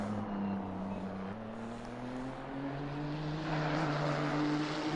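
A race car in a racing game hums steadily toward a chicane, its engine tone climbing gradually as it approaches, loud and continuous with no pauses.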